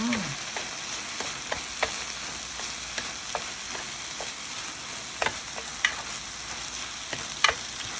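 A tomato dish is stir-fried in a pan with sesame oil: a continuous soft sizzle runs under sharp, irregular taps and scrapes of a spatula stirring, heard up close.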